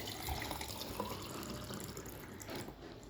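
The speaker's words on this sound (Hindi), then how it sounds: "तो हम गिलास में पानी भर देते हैं।" Water pouring from a tap into a drinking glass, a soft continuous splashing and trickling stream that stays fairly faint and steady for a few seconds, with no talking.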